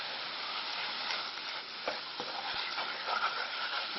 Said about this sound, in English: keep stirring it. Make sure the flour doesn't catch on the bottom.